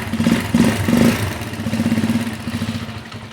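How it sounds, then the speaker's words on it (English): A Janus 250 motorcycle engine idling low and unevenly, with throttle blips and a loping, pulsing beat that sags and nearly stalls, loud and close, no talk. "you can see if I let go of this throttle, the idle cuts out. It's just a little too low."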